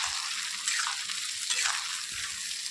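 Spice paste of ginger, tomato, poppy seed, cashew and melon seeds sautéed in a pan. A steady, bright hiss of frying holds throughout, with faint stirring knocks underneath.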